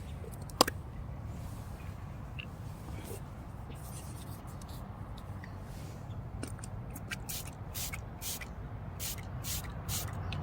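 Short aerosol spritzes of K&N refresher hit a washable cabin air filter, a few brief hissing bursts early and a faster string of close sprays toward the end over a low background rumble.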